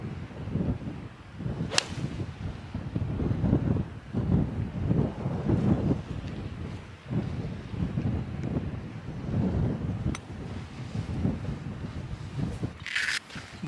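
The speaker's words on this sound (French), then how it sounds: "il y a beaucoup de vent" Strong wind buffets the microphone on an exposed seaside golf links course, a steady low roar with gusts, and a few sharp swishy cracks stand out near the start and the end.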